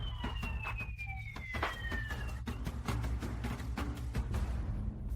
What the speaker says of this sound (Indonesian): Dari jauh, kedengaran sirine polisi.